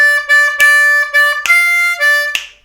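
Blues shuffle lick on a C harmonica, a bright, clear run of short reedy notes in a bouncing rhythm, with several sharp breathy attacks, close and loud with no talking.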